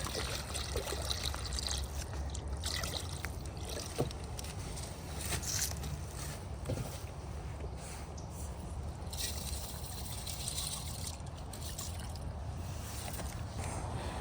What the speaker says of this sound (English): I'm gonna put some water in my pot first.